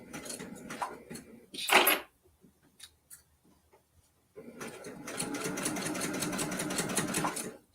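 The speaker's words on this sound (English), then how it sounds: "Sew my label on." A sewing machine stitching a label onto a mini quilt, starting with short bursts and a clatter, pausing, then running in a fast, steady, close mechanical chatter.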